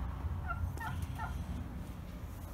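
Hungry chickens let out three short, clucking calls in quick succession over a steady low background rumble, with no talking.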